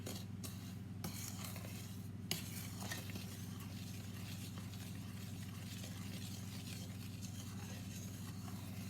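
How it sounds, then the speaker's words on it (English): Homemade fudge mixture being stirred in a pot on the stove, a faint steady scraping and rubbing against a constant low hum, with a few slightly sharper clinks of the utensil early on. "Mix it a little bit."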